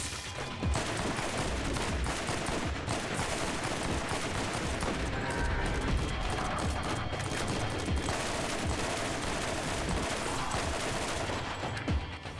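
Rapid assault rifle fire in the video game Borderlands, dense overlapping shots in long sustained bursts with brief pauses, loud and close throughout, with no talking.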